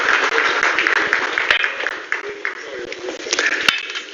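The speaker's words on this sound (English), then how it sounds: "Let's give them some applause" Audience applause at the BRICS Summit as speakers leave the stage, a sustained patter of clapping from a hall crowd with a few sharper individual claps standing out, moderately loud and continuous throughout.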